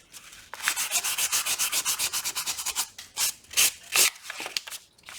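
Sanding block rubbed over a surface in quick, even back-and-forth strokes, a dry, raspy scratching that runs steadily for a few seconds and then slows into a few separate strokes near the end, close and fairly quiet.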